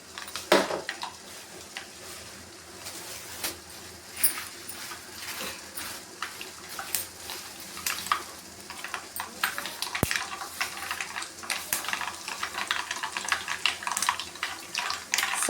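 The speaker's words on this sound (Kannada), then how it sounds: "ಸಾಸಿವೆ ಚೆನ್ನಾಗಿ ಸಿಡಿಬೇಕು" A tablespoon of mustard seeds splutters in hot oil over a low flame for lemon pickle, giving a faint, steady crackle of small pops throughout.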